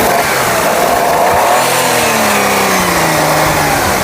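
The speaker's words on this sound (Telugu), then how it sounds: "బండి స్టార్ట్ చేసాము, ఒకసారి మనకు యాక్సిలరేటర్ ఇచ్చి కూడా చూద్దాము." A 2012 Maruti Wagon R's engine is revved hard with the accelerator, a loud, close roar that climbs and falls in pitch over a few seconds with no voices.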